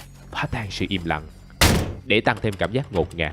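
A single loud gunshot bursts out in the horror video game Game for Anna, a sharp broadband crack with a short tail, landing mid-stream between stretches of narration.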